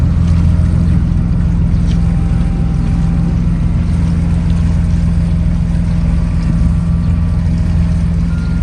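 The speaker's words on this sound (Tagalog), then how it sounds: "Stop muna kasi dumaan yung barko." A ship passing near a bridge in Japan, a steady low engine drone with deep rumbling hum, continuous and moderately loud throughout, without speech.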